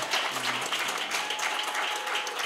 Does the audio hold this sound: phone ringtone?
no